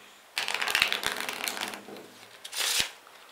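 A deck of playing cards being shuffled during a card magic trick: a burst of riffling and flapping card noise lasting about two seconds, then a brief second flurry, close and fairly loud with no talking.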